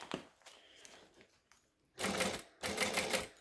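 A sewing machine stitches fabric for a Wonder Bag, running in two loud, close bursts separated by a brief pause, after a few quiet clicks and handling noises.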